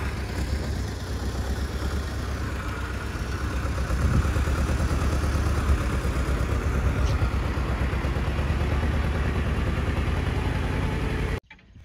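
A car engine runs steadily at a building plot while the stuck vehicle is being pulled out, a loud, close, continuous rumble that rises slightly midway and cuts off abruptly at the end.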